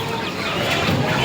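Chickens clucking at a chicken shop in a busy market, a steady dense murmur of fowl noise mixed with crowd din, no clear single calls standing out.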